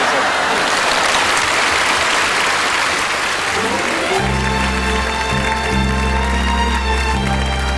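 Studio audience applause at a televised 80th-birthday gala, dense continuous clapping that fills the opening seconds before music with sustained tones takes over and plays under it.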